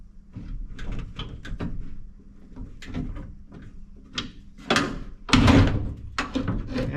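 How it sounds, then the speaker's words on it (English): A screwdriver pries a part loose inside a squarebody truck door during door glass and manual window regulator work, a close series of hollow metallic clunks, taps and scrapes with a couple of louder knocks. "Screwdriver to help pry this out."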